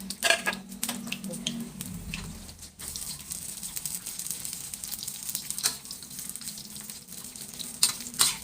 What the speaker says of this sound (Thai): อันดับแรกทอดสิ้นแห่งไว้ก่อนเนาะค่ะเนาะ มาค่ะลงมือทอดกันเลยจ้า